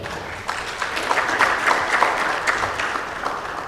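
Audience at a lawyers' litigation session clapping steadily after a presentation, a dense, even burst of applause filling the room, with no talk over it.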